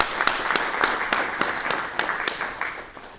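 Applause at a school board meeting for a long-serving staff member, a modest crowd clapping with a few sharp individual claps standing out from the patter, gradually thinning toward the end.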